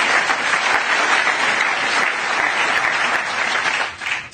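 Sustained audience applause fills the whole stretch as a dense, even wash of many hands clapping, loud and close, fading slightly at the very end.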